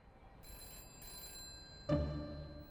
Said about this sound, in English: But just at that moment, the phone rang.